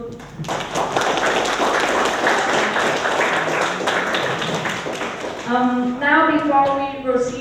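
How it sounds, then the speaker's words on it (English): Audience applause after group project presentations, a dense burst of clapping for several seconds that gives way to a speaking voice near the end. "So a big applause for all of the groups"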